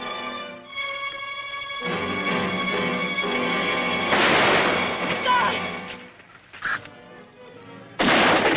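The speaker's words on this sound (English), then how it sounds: "Wait for McKane to fire." Gunshots crack out in a western film shootout set in old California, several loud shots and a sustained rumble of fire over a tense orchestral score, with brief voices between.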